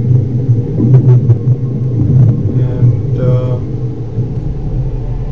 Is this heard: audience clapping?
no